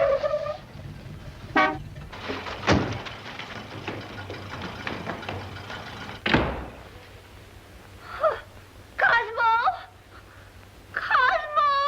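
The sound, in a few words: car horn honking outside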